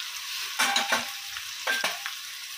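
Spices with ginger garlic paste, ground coriander, cumin, garam masala and turmeric fry in a pan for egg fry, a low steady sizzle broken by two pairs of sharp spatula scrapes, close and quiet, no talk.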